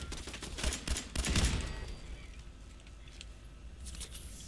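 Bursts of rapid gunfire from the video game Wasteland Wonder crackle in a quick clustered volley, then thin out into quieter scattered shots.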